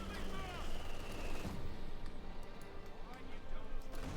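Gunfire and shell impacts rattle against a US Pershing tank in the World War II strategy game Company of Heroes 2, with dense overlapping shots and battle noise, fairly loud, ending in a brief lull with scattered pops.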